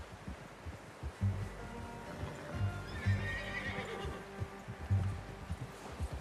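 A horse in the video game Red Dead Redemption II whinnies and snorts while hooves clop unevenly, the sounds fairly close and soft.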